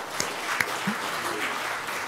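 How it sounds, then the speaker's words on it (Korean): Applause from the audience at a 40th-anniversary commemoration ceremony for a Korean democracy council, a steady broadband patter of many hands held at moderate level for about two seconds, with no speech over it. "응원의 박수라도 한번 주시겠습니까?"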